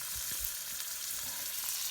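Egg and bread frying in butter in a pan for a bird's nest breakfast, a steady close sizzle and crackle running throughout with a few soft low bumps from the pan.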